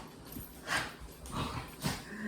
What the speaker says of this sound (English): You gotta love your dogs.